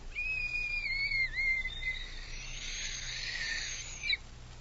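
A thin, wavering tin whistle sounds on its own, rising and dipping before breaking into a breathy, airy tone that cuts off sharply.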